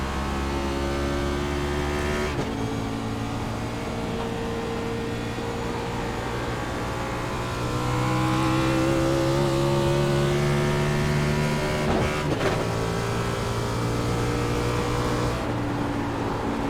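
Race car engine on an oval track in a racing video game, a steady loud drone holding pitch with gradual shifts and a couple of brief breaks, no talk over it.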